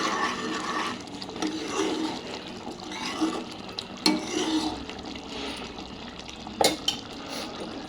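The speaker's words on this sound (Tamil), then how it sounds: "இப்போ கொள்ளோட தண்ணி ரெண்டும் சேர்த்து கலந்துடலாம். பாருங்கள், ஊற்றியாச்சு." Water splashes and gurgles into a pot of horse gram in a steady pour, with a few metallic clinks of cookware standing out near the end.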